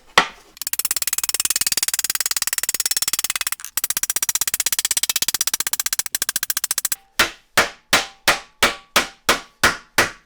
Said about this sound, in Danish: Det kan man bare gøre med hammeren.